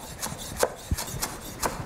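A knife rough chopping fresh cilantro stems and leaves on a cutting board for a Thai green papaya salad, a handful of distinct, close, dull taps at an uneven pace.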